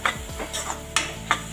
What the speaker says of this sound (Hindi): कर लेंगे इसको अच्छे से मिक्स